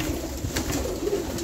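Domestic pigeons coo in a loft after vaccination, soft low throaty calls repeating in a loose rhythm, close and steady with a faint hiss behind and no speech.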